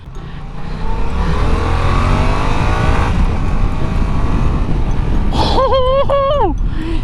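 A Yamaha MT-07 naked motorcycle rides along with a loud, steady engine drone and wind noise throughout, and a rising rev tone climbs in stepped pulls near the end.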